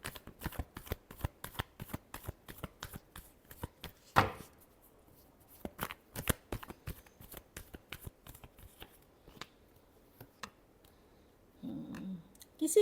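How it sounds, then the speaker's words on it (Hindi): Tarot cards are shuffled close up in a soft, crisp riffle of rapid flicks, broken by a brief pause and a louder snap. A faint low rustle comes near the end. "Last shuffle."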